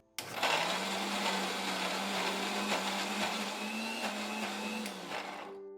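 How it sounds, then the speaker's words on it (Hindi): A mixer grinder jar pulverises torn pieces of bread into crumbs, a loud, steady motor whine that starts abruptly and runs evenly for about five seconds before cutting off. "ये मैंने मिक्सी का जार लिया है, इसमें हम ब्रेड को तोड़कर डालेंगे। अब इसे हम मिक्सी में पीस लेंगे।"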